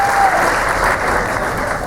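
An audience aboard a Carnival cruise ship cheers a stage hypnosis show with loud, sustained applause that continues evenly throughout, dense clapping with no voices standing out.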